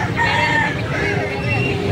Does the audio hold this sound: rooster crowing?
yes